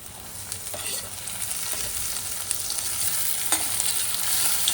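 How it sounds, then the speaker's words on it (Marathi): Tomatoes tipped onto softened onions in a hot pan for a ridge gourd vegetable dish, giving a dense, steady sizzle that slowly grows louder, with a few faint stirring scrapes and no voices. "आता कांदा थोडासा मऊ पडलेला आहे चांगला, टोमॅटो सोबत तो आणखी शिजेल, म्हणून आता आपण टाकूया टोमॅटो।"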